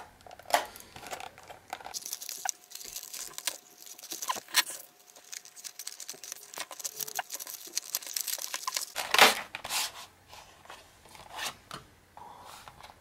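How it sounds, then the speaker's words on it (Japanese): Unboxing of a white and clear polycarbonate and TPU iPhone 5 case, with close crinkling and rustling plastic packaging, taps and light tearing, and a louder burst of crackling near the end, with no talk. "じゃあ早速ちょっとこれ開封していきたいと思います。"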